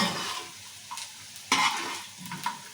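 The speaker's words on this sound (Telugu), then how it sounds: "కొంచెం ఆయిల్ పోసి ఫ్రై చేస్తానికి నేను ఇట్లా చేస్తాను" Bitter gourd slices fry in a little oil, a soft continuous sizzle punctuated by the scrape and clatter of a spatula stirring in the pan, close up with no speech.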